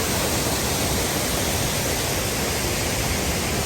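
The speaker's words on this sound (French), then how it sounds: "La cascade n'est pas loin." Rushing water from a waterfall near Chiang Mai, Thailand: a dense, unbroken broadband roar, loud and even, with no voices over it.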